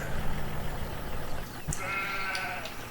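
Sheep in Farming Simulator 17 bleat twice in quick succession, close and moderately loud over a low background hum, with no speech.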